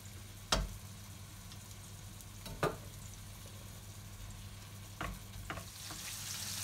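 Flank steak fries in oil with garlic added, a soft steady sizzle close by, broken by a few sharp utensil clicks or knocks against the pan, with no talking.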